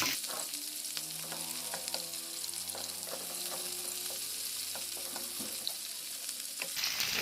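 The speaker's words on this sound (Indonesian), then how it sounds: "Tumis semua bumbu sampai layu dan beraroma wangi." Red and green chilies with spices sautéing in a pan, giving a steady close sizzle with frequent small clinks and scrapes of stirring throughout.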